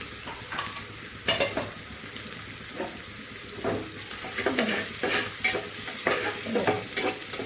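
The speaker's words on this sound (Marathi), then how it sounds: "कांदा जरा चांगला भाजून घ्यायचा." Chopped onion frying in a pan and being stirred, with repeated scraping strokes over a steady low sizzle, close up and without speech.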